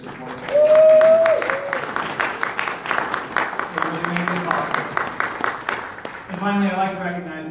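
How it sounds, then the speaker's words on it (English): Audience applause at the Notre Dame Shakespeare Festival gala, a burst of clapping from a room full of people that swells and then fades, with a speaker's voice over it at the start and end. "Would you join me, please, in the second round of applause recognizing these folks and their support?"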